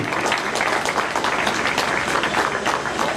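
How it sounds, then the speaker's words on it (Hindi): Dense, steady applause from a crowd welcoming performers at a computer center's annual cultural function, loud and continuous throughout with no break. "जोरदार तालियों से स्वागत कीजिए।"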